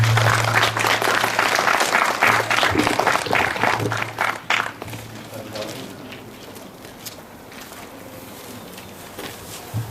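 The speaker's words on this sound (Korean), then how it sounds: "다시 한번 큰 박수 부탁드리겠습니다." Audience applause at a Korean literary award ceremony, the 25th Pyeonun Literature Prize, dense and loud at first with pattering claps, then thinning to scattered clapping and faint room noise.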